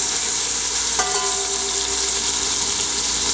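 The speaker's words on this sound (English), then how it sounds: "I want to brown it in another pot, so I can stir the meat a little bit" Oxtail meat sizzles and fries as it browns in a pot, with a steady bright crackle throughout. A brief scrape from the stirring comes partway through.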